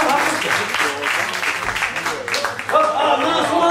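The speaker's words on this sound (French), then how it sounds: "Sous les applaudissements du public, s'il vous plaît." Applause from a comedy club audience during a cup-trick act, a broad steady wash of clapping with talk over it, growing louder near the end.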